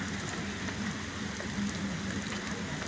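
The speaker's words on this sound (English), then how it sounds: "The rain is coming down harder and harder," Heavy rain pours onto a city street during a cold, windy road race, a dense steady hiss of drops with no pauses, moderately loud and all around.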